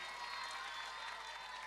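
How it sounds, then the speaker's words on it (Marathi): An audience at a cultural programme of gurukul schools applauds. The clapping is a steady, faint and distant wash from a large crowd, continuous and even throughout. "जोरदार टाळ्या वाजव सर्वांनी"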